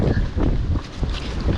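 Gusty wind on the Appalachian Trail rumbles and buffets the microphone in uneven bursts, a close, noisy roar with no voices.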